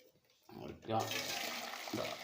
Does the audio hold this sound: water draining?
yes